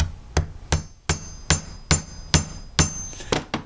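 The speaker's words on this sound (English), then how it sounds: "punch out all 8 million of these little holes" An awl is hammered through leather to punch stitching holes, about ten sharp, close hammer strikes in a steady rhythm, each blow ringing briefly before the next.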